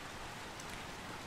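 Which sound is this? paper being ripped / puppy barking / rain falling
rain falling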